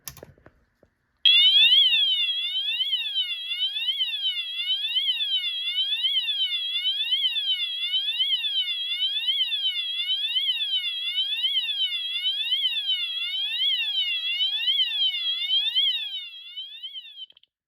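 Loud electronic siren tone from an Eaton Wheelock ELMTSC fire alarm horn strobe, rapidly wavering up and down continuously for about fifteen seconds, close and alone.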